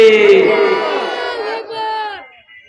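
A crowd at a religious sermon gathering shouts the takbir slogan in unison, a loud sustained chant from many voices that stretches out and then fades.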